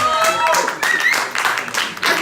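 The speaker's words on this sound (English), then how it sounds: "Give them a round of applause." Audience clapping at a birthday roast, a short burst of handclaps mixed with cheering voices and chatter, fairly close and loud throughout.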